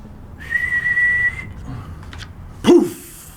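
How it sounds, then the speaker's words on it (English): A loud, sustained high whistle holds one steady pitch, then stops, followed by a few softer breathy sounds and a short burst of voiced noise. "Can you whistle really loud?"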